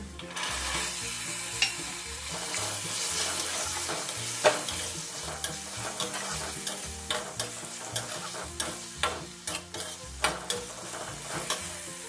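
Washed green peas fry in a pan for methi bhaji, with a steady close sizzle and repeated spatula scrapes and taps that grow more rhythmic and pronounced in the second half.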